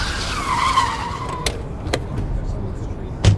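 A black car pulls up fast in front of a hospital, tires squealing in a loud skid that fades, followed by a few sharp knocks; a voice narrates over it.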